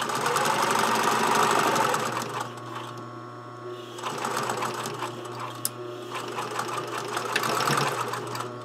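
A sewing machine runs close by while stitching the side seam of a set-in sleeve, whirring fast and steady in bursts with a short slowdown between runs.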